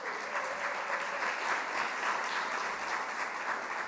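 Audience applause at an education professional development opening session, a steady, fairly distant crowd clapping with no break for the whole stretch.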